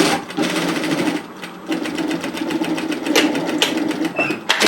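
A sewing machine stitches a sweater pocket, running close and loud in rapid, even bursts of needle clatter that pause briefly and restart across the stretch.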